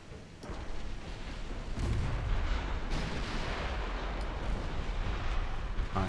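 Naval battle in a strategy video game: a dense, continuous rumble of gunfire and booming explosions, with sharper blasts cutting through now and then and no talk.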